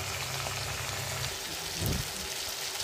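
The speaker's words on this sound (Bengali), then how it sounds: "এবার এটা মটরশুঁটি আলু দিয়ে মশলাটা কষানো হবে।" Potatoes, green peas and spices frying in a pan over low heat give a steady, close sizzle with a soft crackle and a brief louder burst partway through.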